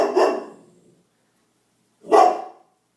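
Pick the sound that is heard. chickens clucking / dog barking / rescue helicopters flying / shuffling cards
dog barking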